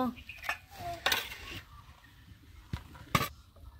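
Steamed egg with taro stolons is lifted from its pot onto a plate, with a few sharp clinks and scrapes of a utensil against metal and crockery, close and sparse, in a quiet room.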